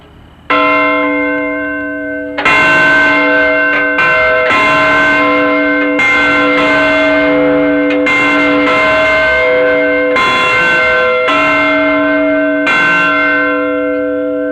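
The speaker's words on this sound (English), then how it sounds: "This is not the Liberty Bell, this is Ali's slave bell." A large, heavy bell at Muhammad Ali's boxing training camp, rung to wake the fighters in the bunkhouse, clangs loudly and repeatedly in an uneven rhythm, each strike ringing on with rich, lingering overtones.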